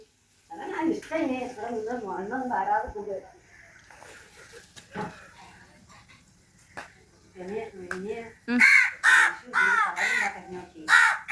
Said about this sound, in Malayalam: കുറേ കാക്കച്ചും കോഴിയും ഒക്കെ ഉണ്ടോ എൻ്റെ അടുത്ത്